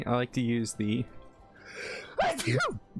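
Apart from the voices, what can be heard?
sneeze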